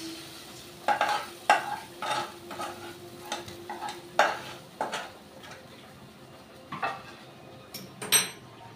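Fish-oil chorchori scraped from a pan onto a metal plate, a series of spatula scrapes and clanks against cookware with a faint sizzle beneath, close and uneven in rhythm.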